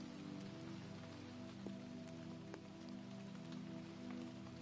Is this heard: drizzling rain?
yes